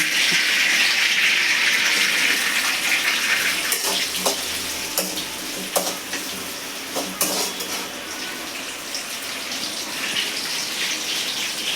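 Green chillies drop into hot oil for an egg palya, giving a steady broadband sizzle with a few sharp clinks of a utensil against the pan, close and loud with no one speaking.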